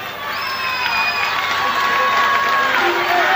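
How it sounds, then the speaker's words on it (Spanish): A live concert crowd at a 1999 show cheers and applauds in a dense, sustained roar, with shouts and whistles rising above the clapping. "Un aplauso nuevo"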